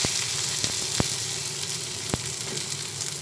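Green chilies and chopped tomato sizzle in hot oil in a pan, a steady close frying hiss with a couple of sharp clicks from stirring, no voices.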